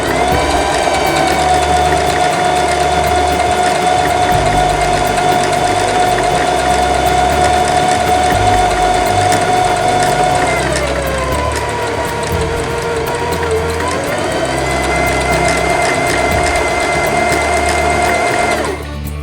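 A Singer Heavy Duty 5554 sewing machine stitching at a steady speed with a loud, continuous whirring hum that shifts pitch briefly midway, then settles again.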